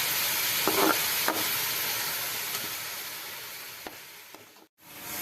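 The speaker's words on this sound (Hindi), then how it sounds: "अच्छे तरीके से प्याज को सुनहरा करेंगे।" Onions frying in a pan for mutton pulao, a steady broadband sizzle with a few sharp ticks and pops, ending in a brief drop to silence before the hiss resumes; no voices.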